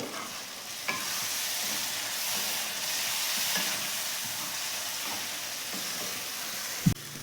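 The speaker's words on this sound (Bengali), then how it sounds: "মশলাটা ভালো করে কষে নেব অল্প অল্প জল দিয়ে দিয়ে মশলাটা খুব ভালো করে কষবো" Spice paste with cumin powder and a little water sizzles steadily in a pan for goat meat curry, with stirring throughout. A sharp clank from the pan comes near the end.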